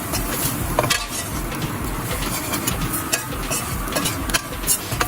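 Spice mixture for chana masala stirred in a hot pan, a dense continuous sizzle with scraping spoon-on-pan sounds and occasional metallic clinks, close and fairly loud, no talking.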